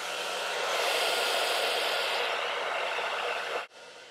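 A blow dryer set to low speed with high heat blows on velcro hair rollers, a steady loud whoosh that runs continuously and then cuts off sharply near the end.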